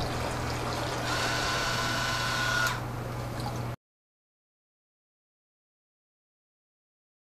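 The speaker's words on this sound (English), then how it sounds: "After a short delay, you should see the valve close." A motorized Fortrezz water valve closes in a demo setup, heard as a few seconds of close mechanical whirring and rushing flow before it cuts off abruptly into silence.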